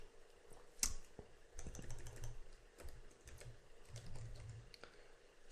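Quiet bursts of keystrokes on a computer keyboard, light irregular clicks in short runs, close and soft, with no talk over them.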